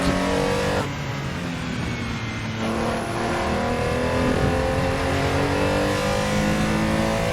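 Car engine in Assetto Corsa driven through the twisty LA Canyons mod in VR, revving and droning steadily throughout with shifting pitch as it accelerates, loud and continuous with no talking.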